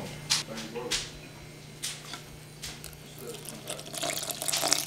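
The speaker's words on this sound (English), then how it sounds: "I'm going to add the ½ cup of water in." Half a cup of water poured into Yorkshire pudding batter of eggs, flour and milk, a few short splashing bursts followed by a steadier trickle, close and moderately loud.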